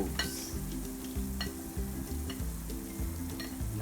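Chicken broth with broth cubes bubbles and sizzles in a pot while a utensil stirs it, a steady close simmer with occasional metallic clinks against the pot.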